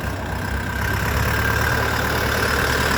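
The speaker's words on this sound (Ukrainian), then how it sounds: "Потужний класний тракторець." A Dongfeng DF-404G2 mini tractor engine idles steadily with a low, even chugging rumble, close and continuous, with no voices.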